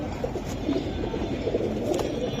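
Silver Giribaz pigeons in a sale loft coo in low, repeated throaty rolls, several birds overlapping at close range against steady background noise.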